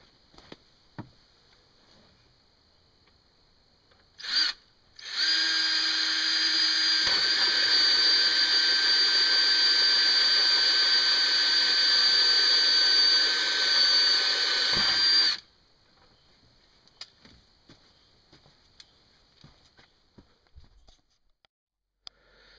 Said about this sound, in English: you want to drill a 3/4 inch hole